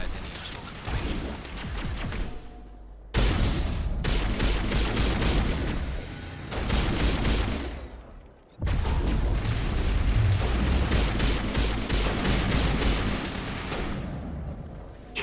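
Sci-fi gunfire in the Mass Effect game, rapid bursts of loud shots and booms repeating across the scene with brief pauses, over a dense mix of game sounds and effects.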